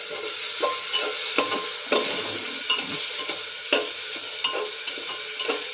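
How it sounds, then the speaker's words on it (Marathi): Black pepper and bay leaf, with cloves and cinnamon, are sautéed in a pan for carrot soup: a steady close sizzle broken by repeated scraping stirs, with no talking. "काळी मिरी, तमालपत्र घालते. आता हे सर्व 1-2 मिनटं परतून घेऊया."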